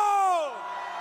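A crowd of people in their twenties and thirties at a political rally in Gwangju cheering, a loud, sustained roar with a voice swooping downward in pitch, fading slightly into a steadier crowd din.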